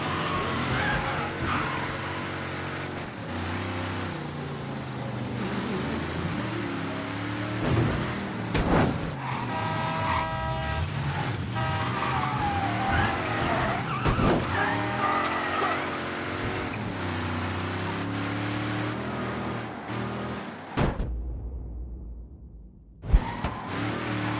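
A car in the Mafia III video game drives with a steady engine drone and shifting revs, with tyre skids and squeals along the way, then a brief drop-out and a sharp impact near the end.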